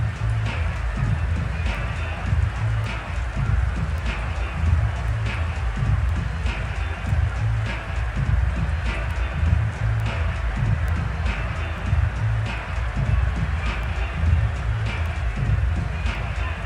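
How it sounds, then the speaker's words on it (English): Steady rain falls across a football field in a Madden 22 game between the New England Patriots and the Indianapolis Colts. It is a constant hiss with faint crowd and stadium noise underneath, and no pauses. "The rain set to continue as we are underway in the second half."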